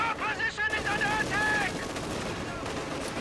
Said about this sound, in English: the mobile mortar plugging away, and CaptainObvious with the heavy 120 millimeter mortar